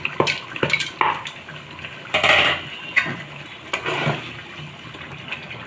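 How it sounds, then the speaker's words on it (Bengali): Fried mung dal goes into a pan of cooking chicken, with a series of close clatters, a rattling pour and scraping stirs that sit over a low frying sizzle. "এখন মুগ ডালটা দিয়ে দিচ্ছি।"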